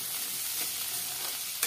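Chopped onion and parandai sautéing in a pan, a soft steady sizzle with light stirring scrapes, close and quiet, no voices over it.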